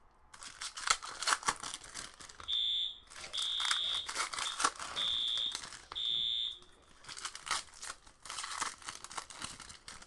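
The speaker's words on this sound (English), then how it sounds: "Sorry about that alarm, folks." An alarm goes off indoors during a Topps Stadium Club baseball card break: four shrill, evenly spaced electronic beeps sound amid nearby crinkling and tearing of card wrappers.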